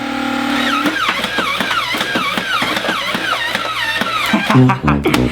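A Nerf Rhino Fire blaster spins up its motor, then fires in a fast, rhythmic burst of whirring, chugging shots that go on for several seconds. The sound is loud and close and ends with a short flurry of clatter.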